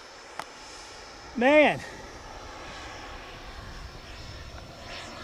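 An AeroFoam T-45 EDF radio-controlled jet flying overhead, its ducted fan giving a steady rushing whine with a brief louder swell as it passes, while someone speaks a single word.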